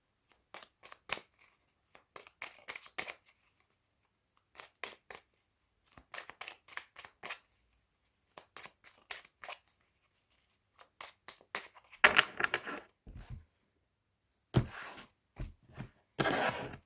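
Tarot cards are shuffled by hand in short, crisp riffling bursts separated by quiet gaps, close and soft, with a few louder flutters toward the end and no voices.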